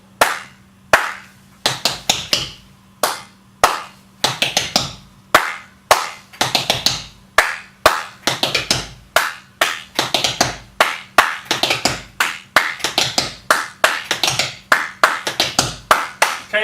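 Tap dance steps mixed with hand claps in a practice class, sharp percussive hits in a steady repeating left, right, clap, clap pattern, loud and close with brief silences between groups and a faint low hum underneath.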